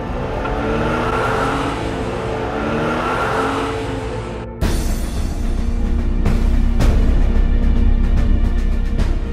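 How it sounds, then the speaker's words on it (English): A video game vehicle's engine roars loud and steady, with an abrupt shift midway to a harsher, busier revving tone with sharp clicks layered over it; no voices. "I don't think this is how this vehicle is supposed to sound."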